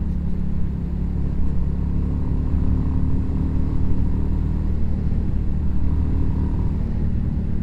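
A Royal Enfield Classic 350 motorcycle rides along steadily, its engine giving a constant low thumping rumble. Wind and road noise sit close around it, with no speech.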